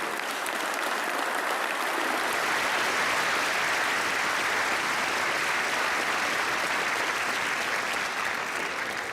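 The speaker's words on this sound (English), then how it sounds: "Can we have a round of applause for all those people?" A large convocation audience at a university graduation ceremony applauds loudly and steadily, a dense unbroken roar of many hands clapping that holds for the whole stretch.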